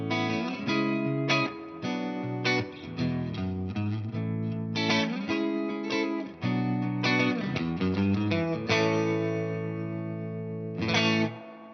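A custom shop Fender Stratocaster electric guitar strums full, sustained chords through an effects chain, loud and close, with rhythmic changes and a final ringing chord fading out.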